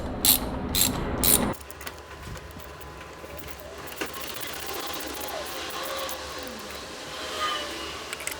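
A ratchet tightens valve cover bolts on a BMW M44 engine, with a few quick clicking bursts near the start, then quieter mechanical clinks and handling noises nearby.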